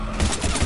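Dense, continuous gunfire in the video game Mass Effect Legendary Edition, a loud close burst of rapid overlapping shots with crashing impacts filling a short moment, no talking.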